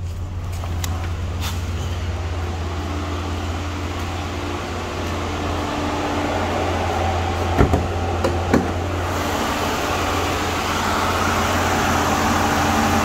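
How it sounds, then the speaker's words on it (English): A 2008 Chevrolet Impala LT with a 3.5 liter V6 idles steadily with the hood up, a constant low hum and broadband whir like a running fan, with a couple of faint clicks partway through. "Go ahead and pop the hood so you can hear it run."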